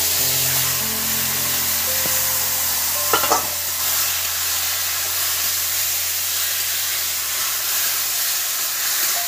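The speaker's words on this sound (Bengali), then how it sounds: "এবার আমি কচু শাকগুলো দিয়ে দিচ্ছি" Taro leaves dropped into a hot pan for a Bengali kochu shak recipe, giving a loud, continuous sizzle and steamy hiss with a brief clatter of stirring partway through.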